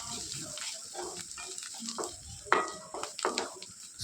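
A cabbage and carrot mixture, cooked soft with coriander leaves added, is stirred in a pan with a spoon, giving soft repeated scrapes and light sizzling close by and no talking.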